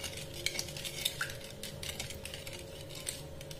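Spoon stirring vinegar and powdered sugar into sliced onions in a bowl, giving soft intermittent clinks and scrapes over a steady low hum, close but quiet, with no speech.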